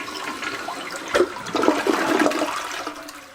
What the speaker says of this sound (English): It's flushing and the water's going away fast